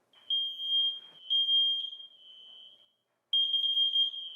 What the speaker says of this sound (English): take an object and press the test button in the center of the alarm